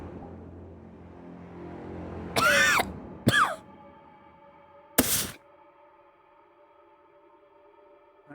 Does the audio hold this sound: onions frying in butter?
no